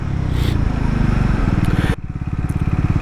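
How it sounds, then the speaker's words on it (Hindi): Triumph Scrambler 400X or Yezdi Scrambler motorcycle engine loud and close, dropping in pitch as the rider brakes hard with the front brake from 80 km/h, then settling into a slower pulsing idle-like thrum. "और ये 80 पे ले जाके फ्रंट ब्रेक।"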